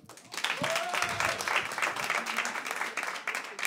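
A comedy club audience applauds steadily, a dense wash of clapping that swells quickly and holds throughout, with a brief voice and a whistle-like tone heard early on.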